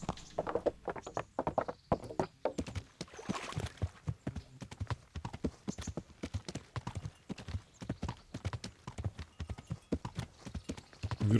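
Hooves of a horse clip-clopping at a brisk pace under a rider in the medieval video game Kingdom Come Deliverance, a steady rhythmic clatter of distinct hoof strikes, close and clear, with no talk.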